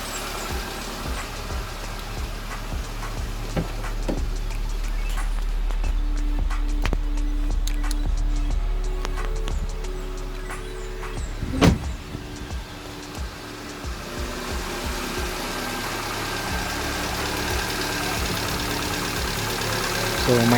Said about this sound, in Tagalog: So, makikita na gumana na yung radiator fan. Then, naka-engage na rin yung clutch o yung AC clutch.